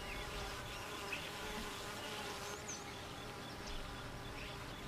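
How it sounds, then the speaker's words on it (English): Steady, dense honeybee buzzing fills the clip without pause, a close swarm drone with faint chirps above it. "Honeybees live in colonies, or beehives."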